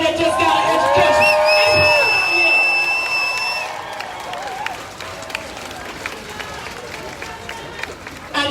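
Crowd at the Equal Justice Rally in Columbus, Georgia cheering, whooping and applauding loudly, with whistles in the first few seconds, then fading to scattered claps and murmur.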